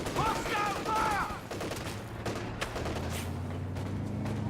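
Gunfire crackles in a battlefield strategy game, a dense fusillade of shots over ambient battle noise, with a shouted in-game voice near the start and a low hum underneath.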